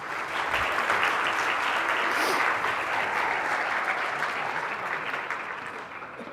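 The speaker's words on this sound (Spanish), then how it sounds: "Os pido un fuerte aplauso para él." Steady, dense applause from a university lecture audience at a medicine talk on artificial intelligence, sustained at full strength for several seconds and tapering only slightly toward the end.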